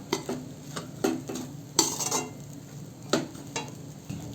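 Rice stirred and mixed in a pan for chicken fried rice, with a spoon scraping and clinking against the metal in irregular strokes over a faint sizzle, close and quiet with no talking.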